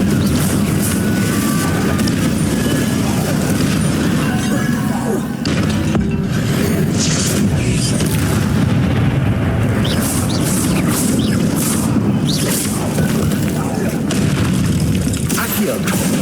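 A Confringo fire spell from the Hogwarts Legacy video game bursts in a deep, loud boom, followed by rumbling and crashing debris over steady low battle noise.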